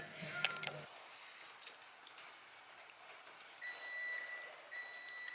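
A machine in a shop where steel wheels from a 1957 Austin Healey are cleaned and powder coated gives its done signal, a few high repeated electronic beeps, clear and moderately loud over faint background noise.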